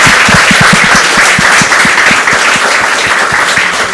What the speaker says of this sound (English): the film deserves a bigger round of applause